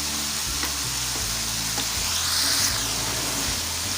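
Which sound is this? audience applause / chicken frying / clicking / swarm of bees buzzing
chicken frying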